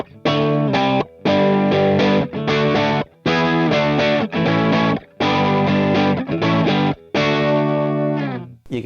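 Electric guitar through a Joyo Jackman boost pedal plays bright, slightly gritty chords in short bursts with brief gaps, loud and close, no voices.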